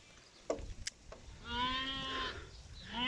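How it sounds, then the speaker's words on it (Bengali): A fat-tailed dumba sheep bleats in long wavering calls at close range, preceded by a few brief knocks and rustles. "এই যে ঘাস খেতে লাগাই দিলাম দুম্বা"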